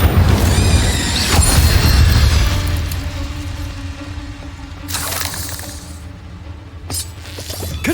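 Confringo and Incendio spell blasts in a Harry Potter video game: a loud booming burst up front, then further crackling impacts and shattering hits spaced over several seconds, with no talking.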